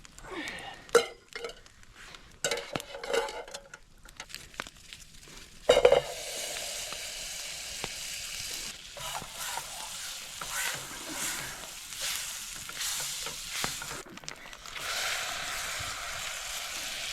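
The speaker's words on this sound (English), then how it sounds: "I'm gonna use my little grill," Top sirloin steak and shrimp cook on a small grill over coals at a winter outdoor camp. Scattered clicks and pops lead into a steady, fairly quiet sizzle with occasional louder crackles.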